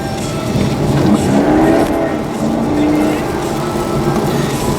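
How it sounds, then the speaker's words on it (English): Holden Commodore SSV VF1 V8 accelerating, a loud, rising engine note building steadily over a few seconds, heard from inside the car with a rough, rumbling tone. "the other thing that sticks out with this car is obviously the V8 motor because it just has that explosive jump off the line"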